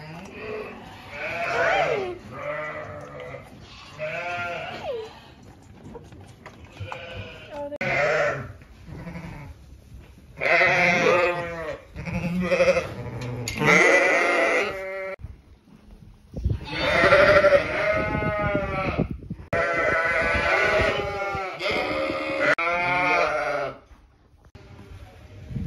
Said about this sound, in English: I think 350 sheep, so they're called right now, and two horses.